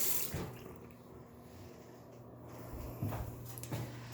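Tap runs in a home, giving a faint, steady rush of water with low hum underneath, punctuated by a few soft knocks and clatters near the start and end.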